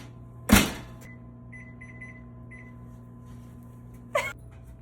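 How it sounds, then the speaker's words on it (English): A kitchen oven gives several short, faint, high beeps in quick succession, set between two louder thuds against a steady low hum. "This is the oven, by the way."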